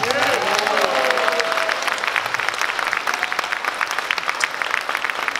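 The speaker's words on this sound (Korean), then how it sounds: "자, 박수를 칠 준비를 한번 해주십시오." Applause from a congregation at a Christian leaders' forum, a broad wash of clapping with a voice speaking over it near the start.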